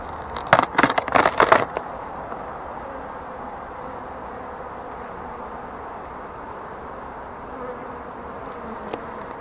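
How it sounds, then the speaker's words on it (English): Honeybees hum in a dense, steady drone around an opened hive during a September inspection. A few sharp knocks and clatters from handling the frames come at the start, with no talking. "Bees are reasonably calm."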